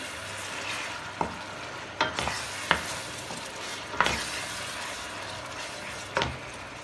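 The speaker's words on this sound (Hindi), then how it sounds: "जैसा कि आप देख सकते हैं जितनी देर इसकी भुनाई हो रही है" Ginger, garlic and green chilli frying in oil for Hyderabadi haleem: a continuous close sizzle broken by several sharp spoon scrapes and knocks against the pan, with no speech.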